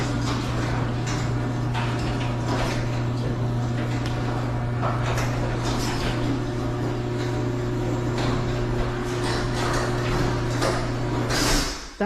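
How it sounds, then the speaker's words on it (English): A garage door rolls shut with a long, steady mechanical rumble and rattle over a constant electrical hum, ending in a soft thud as it closes. "let's shut the door."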